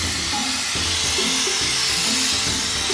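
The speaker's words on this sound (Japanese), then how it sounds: "ケンシ磨いてるからね、あんまりそばでやってると音うるさくなっちゃうんでね" A power polisher buffing the body of a used car on a small country used-car lot, a steady loud whirring drone with a broad hiss running unbroken throughout, heard up close with no talk.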